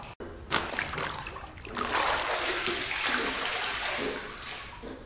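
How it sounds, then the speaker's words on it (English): A white t-shirt is dunked into water, giving a burst of splashing followed by steady sloshing and trickling, close and fairly loud, with no speech. "You're gonna take your white t-shirt and you're gonna dunk it in the water."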